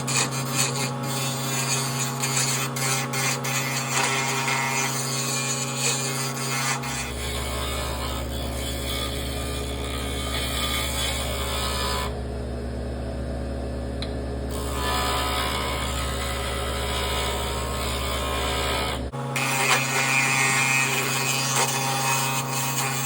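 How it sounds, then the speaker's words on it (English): A carbide-tip chisel turns a wooden pen blank on a lathe: a steady motor hum runs under a continuous rasping scrape of wood being cut, pausing briefly midway before resuming. "then I usually just switch to like a finer chisel with the carbide tip"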